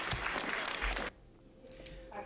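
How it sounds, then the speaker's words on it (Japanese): Students and parents clap to welcome 111 graduates at a high school graduation ceremony, a dense wash of applause for about a second that then drops away to a quieter room with faint sounds. "卒業生111人が拍手で迎えられました"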